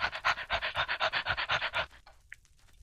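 A dog in the Minecraft video game pants in quick, even breaths, about a dozen close rhythmic huffs, then stops, leaving near silence with one short faint blip.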